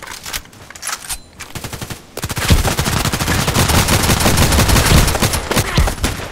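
A KelTec RFB rifle in the shooter game Contract Wars fires sharp single shots at first, then breaks into a long, loud string of rapid close shots that keeps going to the end.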